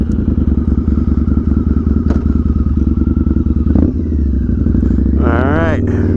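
A V-Rod motorcycle engine runs close and loud with a rapid pulsing rumble, then revs briefly, with a faint clatter near the end.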